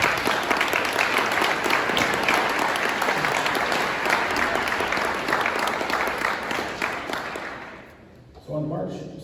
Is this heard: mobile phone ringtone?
no